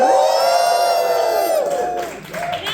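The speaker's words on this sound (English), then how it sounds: "Give me the sort of whooping and cheering that you would give if you'd won some consumer goods." A warm-up crowd at a comedy gig whoops and cheers loudly, with sustained high voiced whoops and shouts rising together, then dipping briefly near the end before swelling again.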